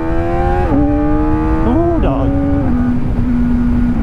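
A Honda WN7 electric motorcycle accelerates, its motor giving a loud whining tone that rises and dips in pitch several times before settling, heard close over heavy wind rush.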